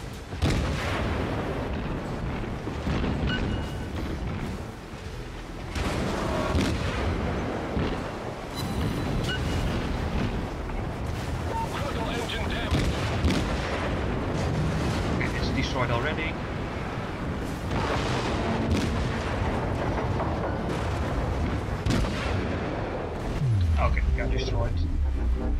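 Naval guns on a tier II Chester cruiser boom in World of Warships, heavy explosive blasts and rumbling impacts rolling over continuous wind and sea noise, with a player talking over the battle.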